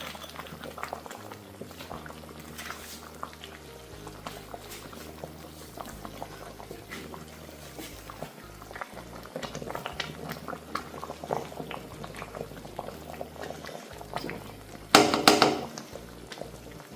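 Sugar syrup for plum chutney bubbles in a pan with a continuous soft simmering burble, close and steady, over a low tonal hum, with a brief louder rustle near the end.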